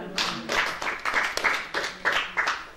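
A worship congregation claps in acclaim, bursts of many hands striking together in a loose, uneven rhythm, moderately close, with no voices over it.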